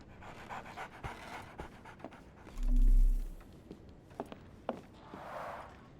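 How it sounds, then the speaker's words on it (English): A dog in the Sherlock Holmes The Awakened video game pants in quick, soft breaths, close and fairly quiet, with a brief low thump and a few faint footsteps and clicks around it. "So, Barnes has a dog now. Who's a good boy?"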